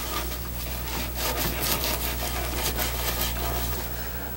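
Nylon brush scrubs the carved wood of a 1950s chair, rhythmic rasping strokes over a steady low hum, close and fairly quiet with no talking.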